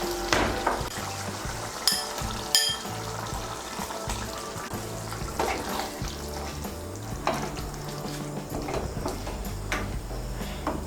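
Fried eggs tumble into a pan of boiled pointed gourd and potatoes, bringing a steady close sizzle with scattered clinks and scraping of utensil against metal.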